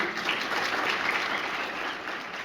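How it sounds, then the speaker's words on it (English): Steady, full applause from a sizeable audience at a cadet awards ceremony, with many hands clapping continuously at an even level before easing off slightly at the end. "let's give our LISD Honorable Cadets another round of applause"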